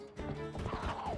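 Epona, the horse in Zelda: Twilight Princess HD, whinnies loudly in a rising then falling neigh, close and alone, with a few hoof clops mixed in.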